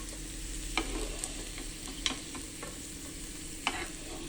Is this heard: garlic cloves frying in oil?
yes